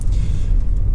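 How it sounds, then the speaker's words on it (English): A Toyota Yaris 1.0 VVT-i T Spirit three-door hatchback with low mileage on a road test, giving a steady, close, continuous low engine and road rumble with no pauses. "this is a quick road test video, and this is for a Toyota Yaris"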